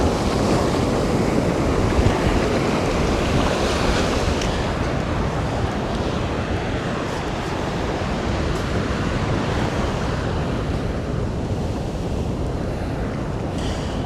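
Ocean waves break and wash onto a beach during metal detecting, a loud, continuous roar of surf with wind buffeting the microphone and no voices.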